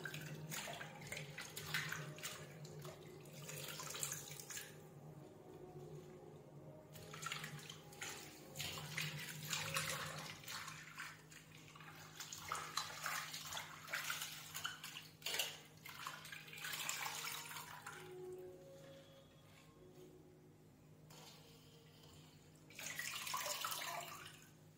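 Water squeezed by hand from freshly washed spinach into a pot. Faint, uneven splashing and trickling runs on and off for the whole stretch, with no talking.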